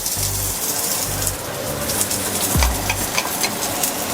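Onions and garlic frying in olive oil in a pan with a kitchen fan running: a loud, steady, close sizzle with crackling pops throughout and a low rumbling hum underneath, no talking.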